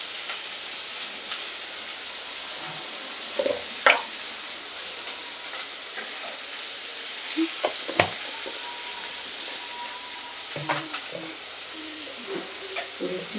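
Maharashtrian bhogichi bhaji vegetables with sesame seeds being stir-fried in a pan, a soft continuous sizzle with intermittent scraping and clinks of a spatula, close up with faint background voice.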